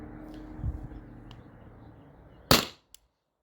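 A single sharp pop from a Byrna SD launcher powered by a CO2 cartridge, loud and close, preceded by faint handling noise and ending abruptly in silence, with no speech.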